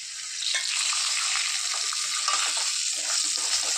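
Green chilli, ginger and garlic frying in oil in a pan, a steady bright sizzle with crackling pops, close and continuous with no talking.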